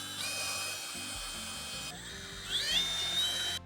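A drill drives screws into a wooden dresser drawer, whining steadily in two bursts that shift pitch and rise toward the second, quiet and close with no talking.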